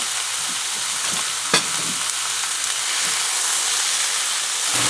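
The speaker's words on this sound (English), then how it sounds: "We're going to stir this for a bit." Carrots, snow peas and ground pork stir-fry in a pan for a Filipino empanada filling, a constant close hiss and sizzle with a single sharp utensil knock early on, and no voices.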